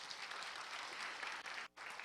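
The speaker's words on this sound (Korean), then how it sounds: "와, 박수 한번 주세요." A church congregation at a Sunday service applauds a child during the sermon, a steady wash of clapping that fills the room for about two seconds with a brief dip near the end.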